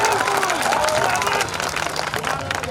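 An audience at a live stage event applauds with dense, sustained clapping and some crowd noise. The clapping stays loud throughout and eases slightly toward the end.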